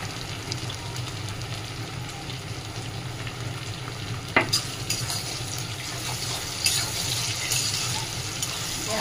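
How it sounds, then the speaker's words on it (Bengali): Tomato paste hits hot oil with browned onions and salt, giving a steady, loud sizzle and frying hiss with occasional stirring scrapes and clinks, close by and alone without talk. "পেঁয়াজটা লাল হয়ে গেছে, আমি টমেটো বাটাটা দিয়ে দেবো। একটু নুন দিয়ে দেবো"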